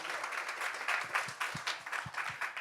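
An audience claps at a talk, a faint, distant patter of scattered hand claps running steadily for a couple of seconds.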